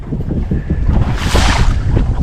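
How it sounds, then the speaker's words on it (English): Steady wind gusting across open water on a lake while out on a boat in winter, a continuous rumbling roar with a brief rise in hiss midway, loud and close against the microphone, no voices. "It's pretty windy today though, even right here."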